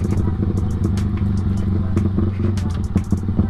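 A Yamaha Vixion motorcycle bored out to 195cc, in worn stock condition, runs close by with a steady, throaty low engine drone and clattering rhythmic pulses, loud and continuous throughout.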